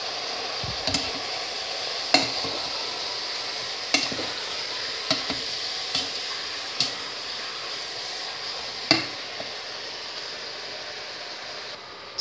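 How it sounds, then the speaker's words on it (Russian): Steady sizzling of pork and chicken hearts frying in a pan, with occasional scraping stirs and clacks over the constant hiss. "пока у меня жарится мясо с сердечками"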